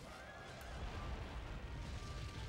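A horse neighs in the video game Soul Calibur III, a close, clear whinny over a continuous rumble of hooves and battle noise.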